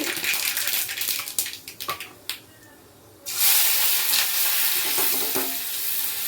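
Mustard seeds spluttering in hot coconut oil in a pan for a thoran, a dense crackling sizzle with scattered pops, briefly quieter midway before a steady loud hiss of frying resumes.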